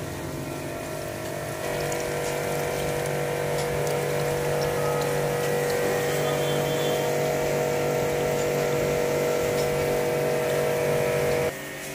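A motorbike engine idles steadily at close range while old engine oil is being flushed out, a continuous droning hum that steps up slightly in level after a couple of seconds and holds without talk.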